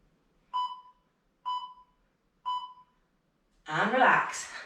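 Three evenly spaced electronic beeps from a workout interval timer during a dryland training session, clean and clear against near silence, followed by a burst of voice.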